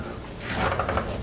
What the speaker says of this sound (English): I'm gonna go ahead and take my putty knife.